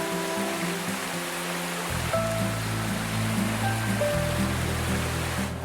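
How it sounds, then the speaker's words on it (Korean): A moss-covered waterfall on Unjangsan mountain pours steadily, a broad continuous rushing roar with no pauses, heard close and even throughout with faint tonal sounds drifting over it. "운장산이 몰래 숨겨놓은 보물 같은 존재 이끼 폭포."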